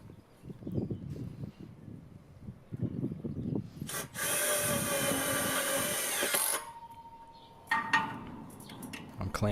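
A screw is driven into timber with a power driver on a solar panel rack build: scattered clamp and wood handling noises, then a loud, steady whirring run of a couple of seconds, followed by shorter bursts.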